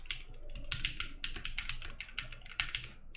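Brisk, crisp clicking of keystrokes on a freshly assembled mechanical keyboard, steady and close, with no talking.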